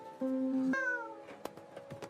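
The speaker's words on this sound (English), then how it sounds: "Excuse me, is that a cat in here?" A cat gives a clear, drawn-out meow followed by a second, rising call, close and fairly loud, with a few faint clicks and bumps after.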